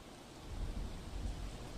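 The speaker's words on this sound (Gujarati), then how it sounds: "વલસાડ જિલ્લામાં વહેલી સવારથી ધોધમાર વરસાદ વરસી રહ્યો છે" Heavy monsoon rain in Valsad district falls as a soft, continuous rushing wash with a low rumble underneath, fairly faint and steady, with no voices.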